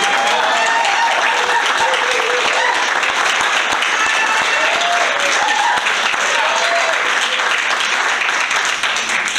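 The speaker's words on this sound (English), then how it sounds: "How about a round of applause for our president?" Applause from the audience at a school board meeting, a dense wash of clapping that carries on steadily for several seconds, with a voice faintly heard beneath it.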